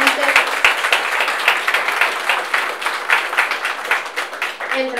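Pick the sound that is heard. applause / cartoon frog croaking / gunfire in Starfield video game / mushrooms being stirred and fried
applause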